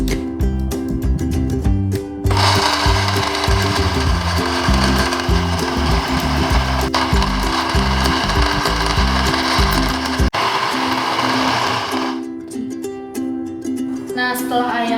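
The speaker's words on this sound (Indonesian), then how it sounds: "setelah ayam dan es batunya di blender" A blender whirs through chicken and ice cubes for homemade chicken dim sum, a loud, dense grinding roar that starts after about two seconds, runs steadily for roughly ten seconds, then cuts off.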